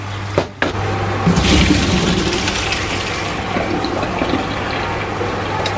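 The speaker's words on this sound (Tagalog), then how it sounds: "So, we can drain the water." Boiled macaroni pasta drained of its water, a steady rushing pour of liquid with a brief dip near the start, continuous and fairly close, no talking.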